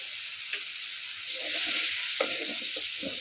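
Water is poured into a pan of sizzling shidol chutney, and the frying hiss swells louder and steadier, broken by a few soft stirring clatters.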